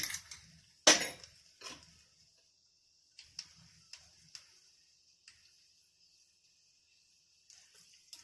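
Mustard seeds splutter and pop in hot ghee in a small tempering ladle with a chilli. The pops come as sparse, sharp, crackling snaps, one loud burst and then scattered smaller ticks with quiet gaps.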